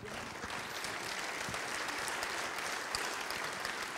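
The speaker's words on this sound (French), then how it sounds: "Donc vous avez le droit de vous applaudir, messieurs et mesdames les militants." Audience of party activists at a French general assembly applauding, a steady wash of many hands clapping throughout, moderately distant and even in level, with no speech over it.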